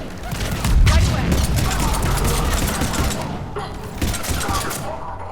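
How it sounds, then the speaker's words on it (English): Battle ambience in Mass Effect 3 with repeated mortar fire, low thumps and booms over a continuous rumble and mechanical clatter, loud and dense throughout, with voices speaking in the mix. "Commander, we're getting a lot of mortar fire."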